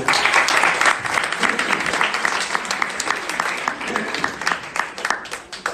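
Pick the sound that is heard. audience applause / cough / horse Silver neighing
audience applause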